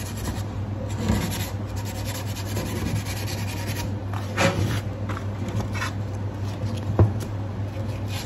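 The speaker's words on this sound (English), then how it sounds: "320 waterproof sandpaper for sanding down the mouthpiece slightly, so that it does not feel sharp" Steady rubbing rasp of 320 waterproof sandpaper worked back and forth against the mouthpiece of a Yemenite kudu horn shofar, close up, with a constant low hum underneath.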